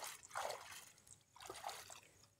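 Large taro-like tubers are dipped and swished in pond-like water to wash off the soil, giving two short, faint splashing and trickling bursts.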